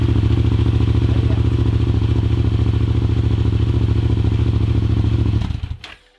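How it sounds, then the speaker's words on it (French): A Yamaha MT-07 motorcycle engine running loud and close with a steady, rapid idle throb for several seconds before it cuts off and falls silent. "maintenant on va démarrer la moto"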